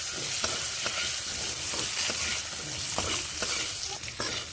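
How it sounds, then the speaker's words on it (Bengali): Potato pieces stir-fry in a pan with salt and turmeric, a steady close sizzle broken by regular scraping strokes of a spatula roughly every half second, with no talking. "একটুখানি নুন দিয়ে দিচ্ছি আর একটুখানি দিয়ে নিচ্ছি হলুদ গুঁড়ো এইভাবে নেড়ে ভেজে নিচ্ছি"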